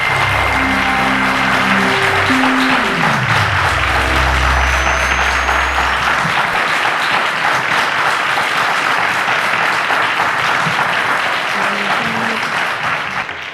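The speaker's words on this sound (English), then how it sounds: "a round of applause to our contestants" A game-show studio audience claps in loud, sustained applause for contestants that fades slightly toward the end, with a musical sting playing underneath at the start.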